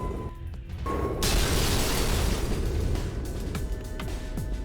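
Explosions in the video game Race the Sun burst into a loud, sustained roar of crashing noise after a brief quieter start, with smaller pops and clanks scattered through it.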